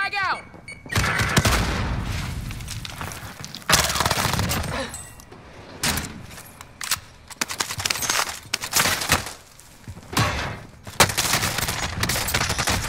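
Rapid bursts of video game gunfire crackle in repeated volleys, dense automatic fire broken by short pauses, loud and close, with players talking over the shooting.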